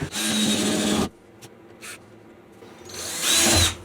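A power drill drives screws into the wooden feet of a workshop build: a loud one-second whir, a pause with a couple of faint clicks and knocks, then another strong whirring burst, close up and without speech.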